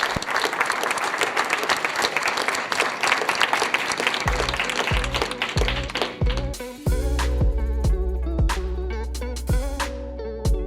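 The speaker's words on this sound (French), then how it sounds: "On peut vous applaudir, ce projet est reconnu" An audience at a presentation on sustainable building breaks into dense applause that thins out and fades as background music with a steady beat comes in underneath.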